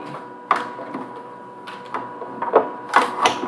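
A die cutting machine feeding cardstock through for a floral card, making a few mechanical clunks and grinding rolls, close by with uneven bursts over a few seconds.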